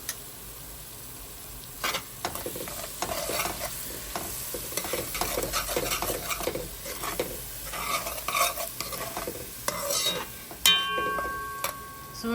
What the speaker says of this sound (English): Sorry about the noise, but this is what happens when you cook with calderos.